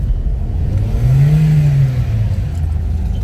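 A car engine revving in a held gear on a town street in Serro, Minas Gerais, a loud steady drone that rises in pitch, peaks in the middle and eases back down.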